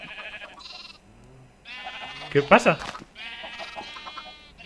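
Minecraft sheep bleat while eating grass in the game, a few wavering bleats, one loud and close in the middle, with a voice speaking briefly over the animal sounds.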